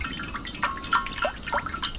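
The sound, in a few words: sunflower oil poured into hot pan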